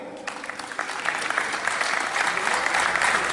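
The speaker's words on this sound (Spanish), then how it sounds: "yo quiero que se le dé un fuerte aplauso" An audience at a cultural heritage gathering in Pivijay, Magdalena bursts into loud, sustained applause after a brief quiet start, with dense clapping that swells and holds steady to the end.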